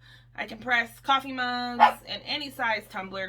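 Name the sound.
dog barking at a cat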